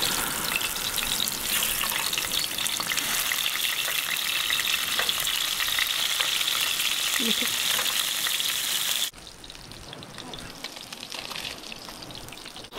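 Fish searing outdoors on a hot rock, a steady broadband sizzle holding loud and close for about nine seconds, then dropping abruptly to a quieter, thinner hiss.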